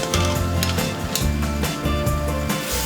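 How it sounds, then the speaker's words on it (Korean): Boiled pork backbone tossed in a pan with soy sauce, seasoning and vegetables, giving busy clanking of utensils against the pan and a sizzling hiss underneath, loud and close. "삶아놓은 돼지 등뼈에 간장, 양념과 채소들을 넣어서 다작다작하게 볶는데요"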